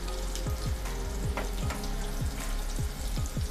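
Stuffed bitter gourds sizzle steadily in oil in a pan, with a soft scraping clack every half second or so as the pieces are turned one by one; no voices.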